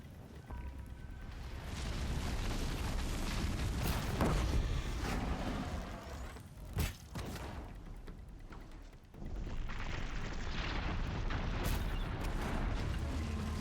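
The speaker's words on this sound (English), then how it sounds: "It was a beautiful explosion, don't you think?" Explosion in the video game Horizon Zero Dawn: a heavy, rumbling blast roars on for seconds, with sharp pops and bursts breaking through, a brief lull, then the low roar returns.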